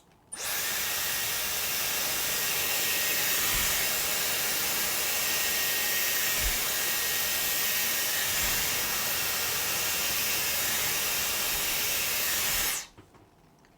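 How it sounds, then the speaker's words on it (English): A Dyson Airwrap hair styler shaping curtain bangs blows a loud, steady whooshing hiss up close. It switches on abruptly, runs evenly for about twelve seconds, then cuts off. "This time I'm holding the Dyson Airwrap like this."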